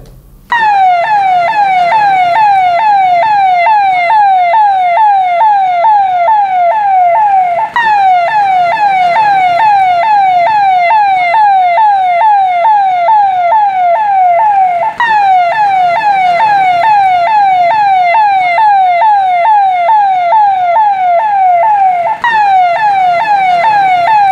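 A police vehicle siren sounds as a force arrives to take over the town, a loud, close, continuous wailing whoop repeating in fast even cycles for the whole stretch, alone without talk.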